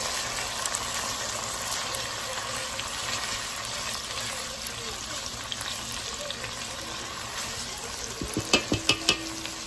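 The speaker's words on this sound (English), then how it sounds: "We're going to let the onion and garlic cook for just a second" Onion and garlic fry in a pan with a steady, close sizzle, joined near the end by a few quick clinks of a utensil against the pan.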